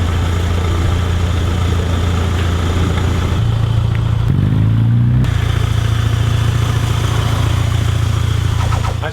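A classic Mini's engine idles steadily and loudly close by, with a brief change in its note partway through before the steady running resumes.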